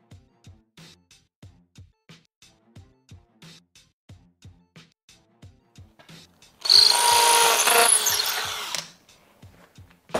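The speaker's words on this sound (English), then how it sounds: "I got my hammer drill" A hammer drill bores into a door frame in a single loud burst of about two seconds, set between a long run of soft, regular ticking clicks nearby.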